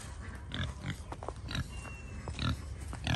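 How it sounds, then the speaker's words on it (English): Pigs on a farm grunt and oink in short, snuffling bursts close by, several calls in quick succession over muddy outdoor ambience. "Here's the oinkers."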